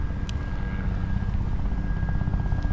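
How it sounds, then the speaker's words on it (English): A helicopter on a sightseeing tour passes overhead near a resort hotel, a steady low rotor rumble heard at moderate distance throughout a few seconds, with faint outdoor background. "And there's a helicopter above."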